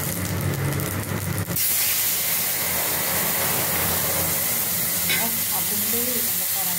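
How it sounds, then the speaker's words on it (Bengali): Fish frying in a wok, a dense, loud hiss and crackle that fills the whole clip, with a brief burst of other noise at the start and faint clinks partway through, no talking. "আগুন দিয়ে কড়াতে মাছ ভেজে দিই"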